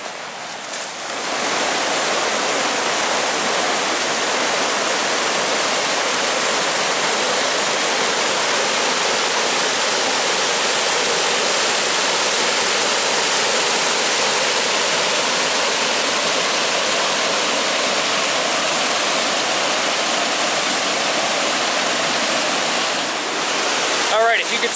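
Roaring creek rapid at Hull's Creek Falls, a dense, constant broadband rush of water, loud and close, holding steady throughout with no break.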